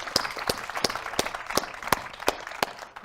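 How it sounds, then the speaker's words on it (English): Scattered, sparse hand claps from a small audience thanking conference panelists and a keynote speaker, a dozen or so distinct sharp claps spaced irregularly rather than a full ovation, moderately quiet with room ambience. "can we say a big thanks and a huge round of applause to our panelists and to Adam, our keynote speaker."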